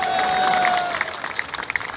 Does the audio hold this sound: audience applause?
yes